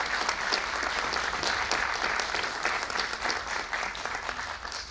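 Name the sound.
audience applause welcoming guests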